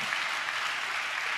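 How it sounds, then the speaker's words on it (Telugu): A church congregation claps together in praise, a dense, steady wash of many hands that holds evenly for about a second and a half with no break. "చప్పట్లు కొడుతూ స్తోత్రాలు చెప్దాం"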